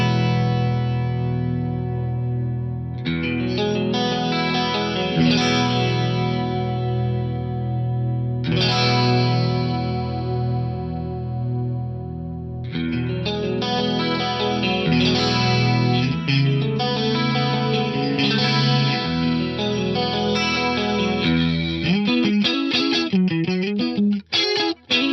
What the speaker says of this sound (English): This chord is appropriate, an E add 9 chord